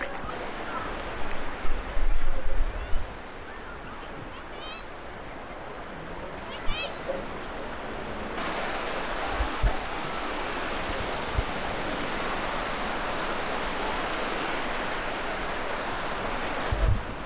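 Lake Erie water washes gently onto the sandy shore at Long Point Beach as a steady, broad hiss, with a few soft thumps near the start and brief knocks scattered throughout.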